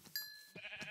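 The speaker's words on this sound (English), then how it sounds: "There's a bunch of sheep here." Sheep in Minecraft bleat in short synthetic calls, one sharp tonal cry near the start followed by softer overlapping bleats, close and clear with no talk.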